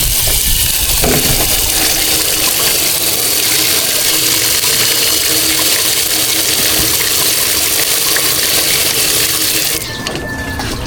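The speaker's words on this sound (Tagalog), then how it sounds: "Tapos, lagyan natin ng tubig." Water pours steadily and loudly for about ten seconds with a continuous rushing splash, then stops abruptly near the end.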